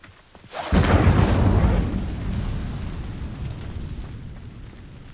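An Incendio fire spell setting dry vines alight in Hogwarts Legacy: a sudden loud whooshing burst that swells into a roaring blaze, then slowly fades to a low crackling rumble.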